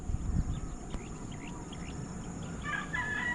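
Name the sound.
birds chirping in open countryside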